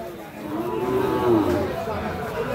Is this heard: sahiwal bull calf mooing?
yes